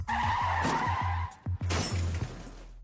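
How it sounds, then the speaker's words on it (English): Hard braking at 50 km/h with a car skidding, heard as repeated loud tire screeches and skids, each cut off by a sharp impact thump, in two bursts with a short gap between them. Nobody speaks. "At 50k an hour, if an obstacle appears 4 meters in front of your car, you'll skid into it if you brake"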